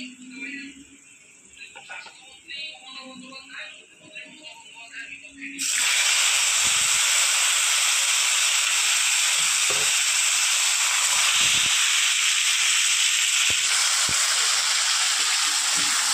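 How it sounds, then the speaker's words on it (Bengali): After a voice talks over a quiet pan, drained taro greens (kochu shak) drop into hot tempering oil and set off a sudden loud, steady hissing sizzle that continues to the end. "এবার আমি জল ঝরিয়ে রাখা কচু শাকটা দিয়ে দেবো।"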